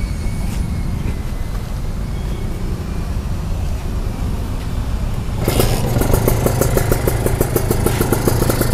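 Suzuki Satria FU motorcycle fitted with a Ninja two-stroke engine idling loudly up close, then getting light throttle blips that bring a rougher, buzzing rise in revs partway through.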